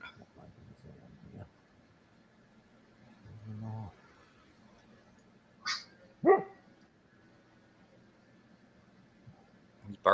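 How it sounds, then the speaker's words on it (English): A male dog barks at something outdoors at night in a quiet rural setting, a few sharp isolated barks spaced apart over faint background hum, with soft distant sounds between them. "He's barking at something."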